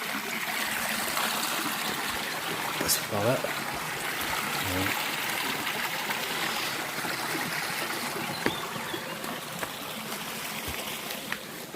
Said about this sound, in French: arrivé près d'un petit ruisseau